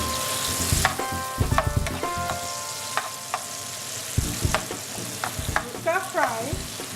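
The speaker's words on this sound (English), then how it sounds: "We start frying until it's nice and tender." Chicken gizzards frying in a pan with one sliced onion and one diced paprika pepper for a Nigerian gizzard and plantain dish, a steady sizzle broken by scraping and clanking as a utensil stirs, close and fairly loud.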